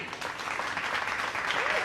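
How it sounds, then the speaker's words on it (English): Audience applause at a comedy show, an energetic burst of clapping and cheering from a crowd, fairly close and continuous. "Can we get a round of applause?"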